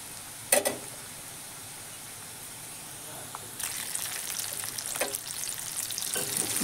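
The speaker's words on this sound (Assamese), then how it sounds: "এয়া পাঁচফোৰণ দিছোঁ, লগতে জিৰা ধনিয়া পাউডাৰ দিছোঁ আৰু এইখিনি অকণমান লৰাই দিছোঁ।" Panch phoron, cumin and coriander powder fry in a pan and are stirred, giving a soft steady sizzle with scraping strokes from the stirring. The sizzle grows louder toward the end.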